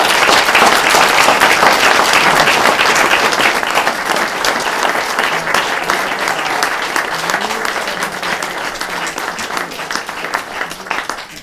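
Sustained audience applause at a women's charity gathering, loud dense clapping that holds steady for several seconds and then slowly thins and fades toward the end.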